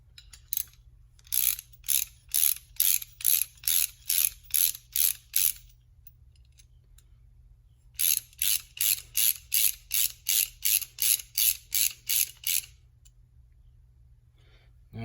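A ratchet wrench tightens a bolt on a hybrid Buick V8 rocker arm assembly, giving two close bursts of rapid, evenly spaced clicks separated by a short pause, with no talking.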